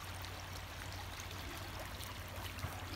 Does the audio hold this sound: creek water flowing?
yes